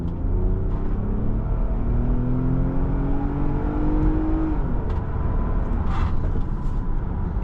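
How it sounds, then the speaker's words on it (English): 2022 Lexus RX 350 F Sport SUV accelerating at full throttle, a loud steady engine drone heard from inside the cabin, rising in pitch until a shift, then continuing under road rumble. "The acceleration, it is a big SUV, so it feels about right for this kind of car."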